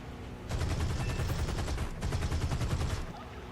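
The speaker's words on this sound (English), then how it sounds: "With 450 caliber machine guns and a 20mm, all concentrated in the nose, you can do a lot of damage very quickly and accurately" A P-38G's nose-mounted machine guns and 20mm cannon fire in the War Thunder flight game, two loud sustained bursts of rapid, tightly spaced shots separated by a brief pause, over steady engine drone.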